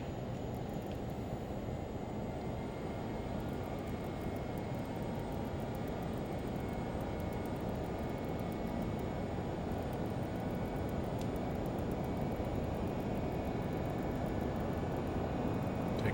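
LearJet engines spooled to takeoff power in a flight simulator, a steady, dense broadband roar with a high whine that holds evenly throughout, with no voices.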